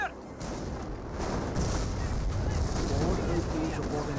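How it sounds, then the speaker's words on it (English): Mortar half-track firing in a World War II strategy game, with dense booming blasts and explosions layered over a loud, continuous battle din. "Mortar half track gets some good hits there."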